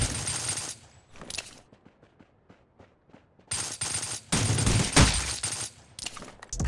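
Rapid bursts of gunfire from the mobile shooter game Rules of Survival, loud and close, come in two clusters separated by quieter scattered shots.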